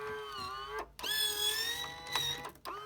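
A Powermatic III electric cigarette machine whirs as it fills a king-size tobacco tube, a high motor whine that stops briefly, then restarts with rising pitch and ends with a short mechanical click, close and steady.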